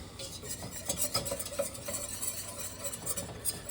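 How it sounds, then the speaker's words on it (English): A spoon works a butter and flour roux in a pot, soft irregular scraping and stirring strokes with a faint sizzle underneath, fairly quiet and close, with no talk. "we're just gonna stir this until it kind of relaxes a bit"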